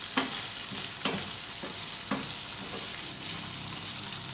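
Ground meat sauce simmering toward a boil in a pan on a gas stove, a soft steady sizzle and bubbling hiss with faint periodic spoon stirs, no voices.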